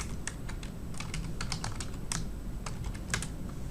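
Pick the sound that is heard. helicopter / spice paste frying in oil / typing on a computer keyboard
typing on a computer keyboard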